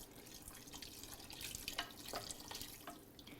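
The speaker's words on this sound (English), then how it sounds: "I'm gonna add about 4 cups of water." Water pours into a pot for a spicy vegetarian Thai tomato soup, a soft continuous splashing and trickling stream that swells slightly midway, heard close and quiet without any speech.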